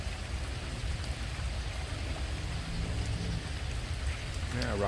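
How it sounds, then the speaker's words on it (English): Steady rain falls on a rainy day, a dense, even hiss of drops hitting surfaces close by, with runoff from a downspout, continuous and fairly loud throughout with no clear voices. "The rain, I'm trying to stand underneath, but the rain is coming in towards me."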